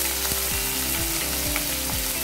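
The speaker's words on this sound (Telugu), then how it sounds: "ఉల్లిపాయ కొంచెం బ్రౌన్ కలర్ వచ్చేంత వరకు దీన్ని వేయించుకోవాలి" Sliced onions fry in hot tempering oil in a pan, giving a loud continuous sizzle with a few soft rhythmic stirring scrapes, and no one speaks.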